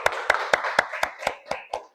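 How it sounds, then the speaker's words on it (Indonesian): A small group clapping in unison in a classroom setting, about eight sharp, evenly spaced claps close by with no talking. "Ya, tepuk tangan untuk kita semuanya."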